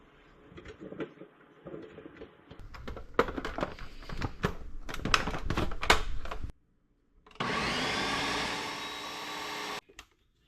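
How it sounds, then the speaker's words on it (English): A food processor blends loquats for jam: a stretch of rattling, knocking bursts as the fruit is chopped, then a brief pause before a steady high-pitched motor whir runs for a few seconds and cuts off. "we're going to go ahead and get them in the food processor"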